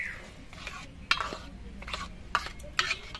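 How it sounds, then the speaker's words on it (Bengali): A spoon stirs moong dal with cucumber in a pot after hot water goes in, giving faint wet swishes and a few sharp clinks against the pot at a slow irregular rhythm with no voices. "আর ডালটা নেড়ে চেড়ে মিশিয়ে নিচ্ছি।"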